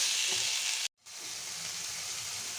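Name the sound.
potatoes and peas with spices stirred in a frying pan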